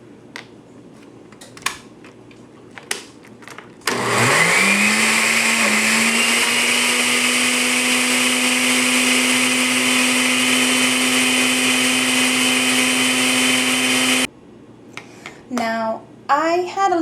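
A Magic Bullet blender whirls peanut butter cheesecake batter for about ten seconds, a loud steady whine that starts abruptly and cuts off, with brief sounds before and after it.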